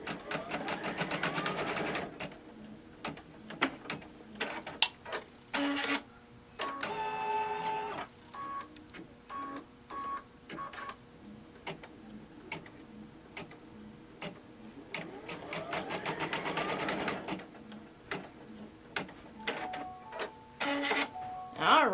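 An embroidery machine stitches a zippered pouch in the hoop, its needle tapping in rapid rhythmic bursts broken by short pauses and mechanical clicks, with a voice talking over it at times.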